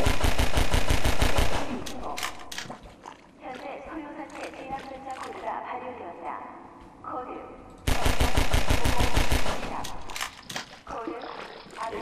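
Bursts of automatic gunfire from a Half-Life 2 firefight aimed at a barnacle, loud rapid volleys opening and returning after a quieter stretch of game noise and a voice.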